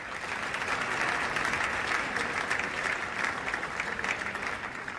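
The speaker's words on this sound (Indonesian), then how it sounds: "kembali memberikan tepuk tangan yang cukup meriah ketika Presiden mengakhiri pidato dengan kalimat perdamaian sekarang" Sustained, dense applause from summit participants at a high-level conference on Palestine as President Prabowo ends his speech, a steady even roar of many hands without pause.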